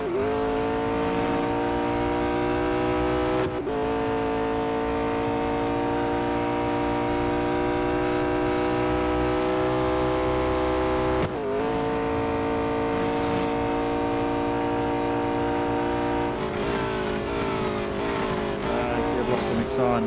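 A race car in the mobile racing game Real Racing 3 drones with a loud, steady high-revving engine, the pitch dropping and climbing again at gear shifts, while someone talks over it.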